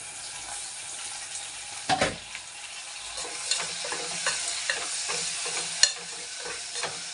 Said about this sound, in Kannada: ಈಗ ಟೊಮೊಟೊ ಹಾಕ್ತಾಯಿದ್ದೀನಿ